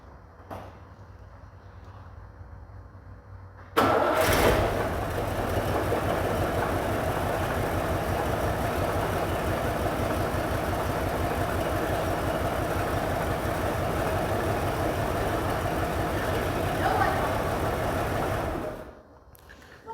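A 1958 Oldsmobile engine cranks and catches with a burst, then idles in a steady, rumbling drone before shutting off.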